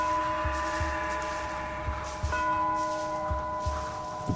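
Tolling bells at sunset in an audio drama, a steady resonant ringing with a low rhythmic thud repeating underneath, moderately loud and sustained over a humming background.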